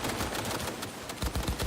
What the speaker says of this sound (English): I'm getting shot from absolutely everywhere.